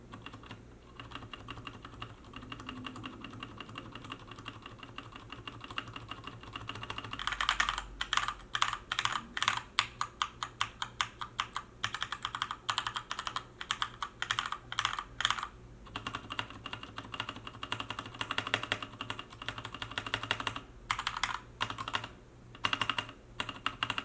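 Rapid clacky keystrokes on a Keychron K2 mechanical keyboard, typed in bursts with short pauses, close and crisp with no talking.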